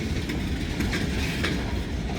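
An Escanaba and Lake Superior freight train rolls along the rails near Pembine, Wisconsin, with a loud continuous rumble and faint rhythmic wheel clacks throughout, heard alone without voices.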